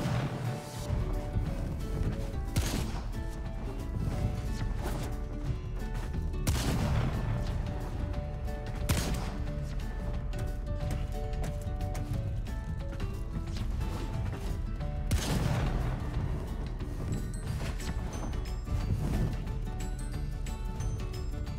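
Gunfire at targets in Warframe, sharp shots scattered every few seconds over a steady bed of game music and mechanical clatter, with no talk.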